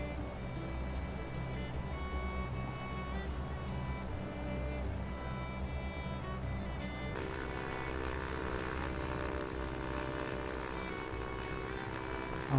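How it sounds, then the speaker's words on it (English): A Cessna propeller aircraft in a flight simulator game runs with a steady, droning engine hum near the Seattle airport, even and continuous throughout, its tone shifting slightly partway through, with no voices. "I'm flying a Cessna."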